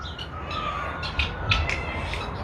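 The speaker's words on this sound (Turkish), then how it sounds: "Evcil güvercin bunlar." Domestic pigeons chirp and coo in short bursts over a steady low rumble, fairly close, with no talking.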